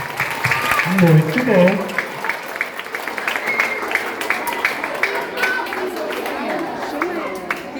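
An audience at a lecture on accessibility claps together, a scattered, moderately loud patter of hands mixed with chatter, while a person speaks briefly over the start.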